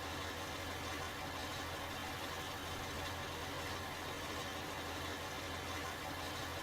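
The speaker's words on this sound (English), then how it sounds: "Top tractor, dude. Runs like a dream and sounds gorgeous." Tractor engine running steadily, a low continuous rumble with faint vibration, fairly quiet and even throughout with no talk.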